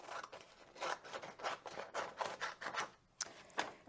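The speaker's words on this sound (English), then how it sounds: "I'm going to take this and I'm going to trim it down a little bit" Scissors cut around the outline of a paper drawing, a close series of crisp snips in a fairly regular rhythm, about a dozen cuts, quiet with no talking.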